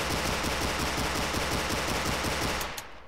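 A toy Glock pistol in a video game fires in a rapid, steady string of loud, close shots for about two and a half seconds, then stops abruptly.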